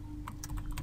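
Computer keyboard keys tapped while typing JavaScript code, a quick run of light clicks spread over under a second, close and fairly quiet, with no talking.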